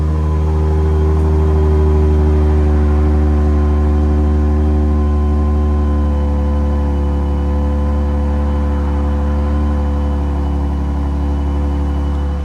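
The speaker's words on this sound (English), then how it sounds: "first startup with valves closed" A 2008 Lexus IS 250 2.5L V6 rumbles steadily at idle through an aftermarket muffler with exhaust valves closed, a deep, even exhaust drone with a low, mellow tone that holds throughout, close by.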